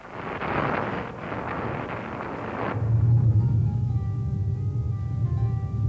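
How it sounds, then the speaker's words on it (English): A small cloud rumbles like a storm, giving a deep, sustained, thunder-like roar that grows louder and heavier partway through and holds to the end, alone without speech. "The little cloud was very pleased at this, and rumbled as loudly as he could."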